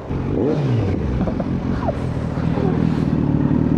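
A Kawasaki Z900 motorcycle engine idles and revs close by, a loud, rumbling low growl with rising and falling throttle blips, while voices chatter over it.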